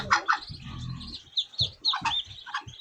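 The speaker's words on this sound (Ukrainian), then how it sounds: "Качка кличе" A duck's short, repeated calls ring out in a quick uneven series, fairly close, with brief low rumbling between them.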